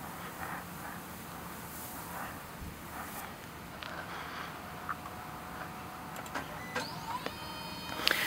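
A printer with a yellow PEI build surface runs with a steady mechanical whir, soft scattered ticks and clicks, and brief rising motor whines toward the end, heard close with no talking.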